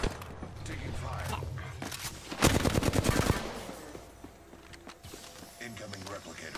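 Rapid bursts of gunfire in the Apex Legends video game crackle loudly for about a second, with a dense volley mid-clip, under steady in-game sounds and players talking.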